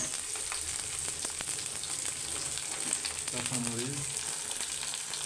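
Onion and green chili frying in hot oil, a steady close sizzle with light stirring clatter throughout, and a brief hum of background noise near the end.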